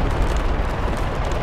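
A Cobra attack helicopter is hit and explodes in the military shooter PR:BF2, making a loud, low rumbling blast that fills the whole short moment, with no talking.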